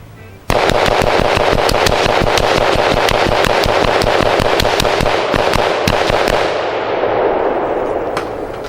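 Rapid gunfire at an indoor trade-show shooting range, a loud, continuous string of close, sharp reports in quick succession for several seconds before tapering slightly, with no talk.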